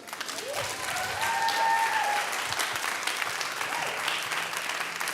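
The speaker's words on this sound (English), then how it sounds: "I gave you an extra few seconds for all of the applause." Audience applause fills the room after a lightning talk about snails and abalone restoration, a steady wash of many hands clapping at moderate volume that holds for several seconds without fading.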